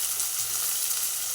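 Chopped onion, tomato and ground ginger frying in oil for an egg curry with chana dal, a dense, even sizzling hiss heard up close and alone for a brief moment.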